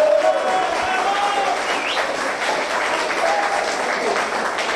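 A sustained round of applause from an audience, dense clapping that carries on steadily, with a few faint voices mixed in.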